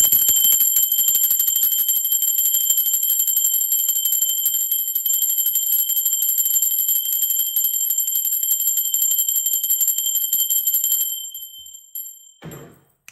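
A bell rings with a sustained, bright, high metallic tone that holds steadily for about eleven seconds, then fades away, ending with a soft thump.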